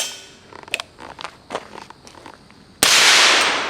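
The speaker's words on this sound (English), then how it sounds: "Now what happens when you put the Rex Silentium MG7 suppressor on the 300 blackout and stick in some subsonic ammunition?" A .300 Blackout rifle with a Rex Silentium MG7 suppressor and subsonic ammunition gives several short, muted snaps and clicks, then a sudden loud sharp report near the end.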